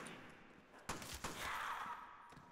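Gunfire in a Call of Duty custom zombies map set at an abandoned rocket base, aimed at a single zombie: a few sharp close shots in quick succession over steady in-game background noise, with no talking.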